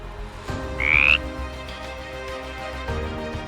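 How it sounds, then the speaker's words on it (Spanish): An African bullfrog croaks in a swampy wildlife setting, a few deep low-pitched calls heard near and loud, with a short high tonal sound over the middle. "La rana toro africana, Picicephalus adspersus."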